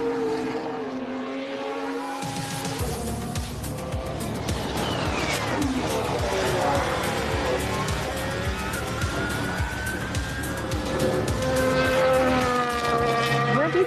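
A Formula One car heads out on hard tyres, its engine note sweeping and shifting pitch with gear changes and a steady high whine, loud and continuous throughout.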